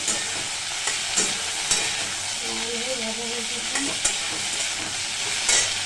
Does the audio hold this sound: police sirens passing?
no